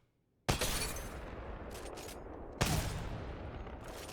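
Two heavy Kraber sniper rifle shots in Apex Legends, each a sharp, loud crack followed by a long booming tail, the second about two seconds after the first.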